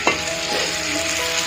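Fish masala thickened with coconut milk sizzling in a pan, a short, loud, continuous hiss with a single stirring scrape near the start.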